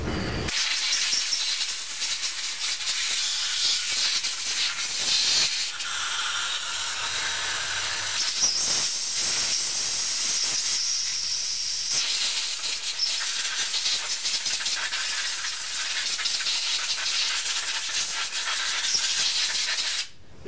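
Compressed air from a lower-pressure line blows dry the rinsed parts of an Evinrude/Johnson outboard carburetor for 60 and 90 degree loopers, a loud close hiss in long sustained blasts with brief pauses and changes in pitch, and no talking.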